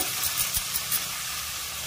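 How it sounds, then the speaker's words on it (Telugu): Oil sizzling and crackling steadily as spices fry in a hot pan, close and continuous. "తాలింపు అయితే వేగిపోతున్నదండి"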